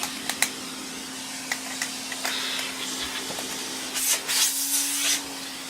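Vintage Hoover Constellation 862 vacuum cleaner fitted with a new motor, running with suction: a steady close motor hum under a soft airy hiss that swells briefly near the end, with a few light knocks.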